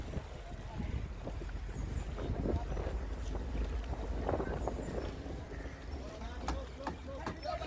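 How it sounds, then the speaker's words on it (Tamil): A large wooden fishing boat is brought back through the water after launching, with splashing, wind buffeting and rumbling movement close by, while people talk over it. "பார்த்தீங்கன்னா திரும்ப எங்கள் படகை நாங்கள் எடுத்து வரோம்"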